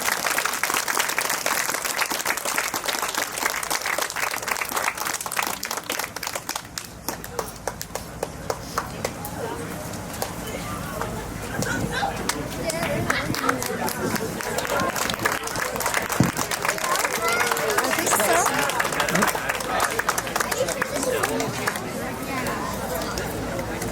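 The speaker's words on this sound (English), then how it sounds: "Come on, audience. Clap for him." A theater audience claps loudly and continuously throughout, with crowd chatter and voices mixed into the sustained applause.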